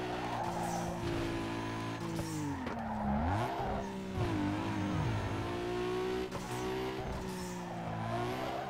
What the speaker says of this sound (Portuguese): eu tô fazendo umas derrapagens tosca em cima do barro aqui